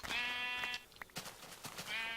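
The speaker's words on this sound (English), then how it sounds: "all these sheep, did they just magically regrow their wool?" Sheep in a video game bleat repeatedly, with two drawn-out, wavering bleats at the start and end and scattered clicks and thuds between them, alone with no talk.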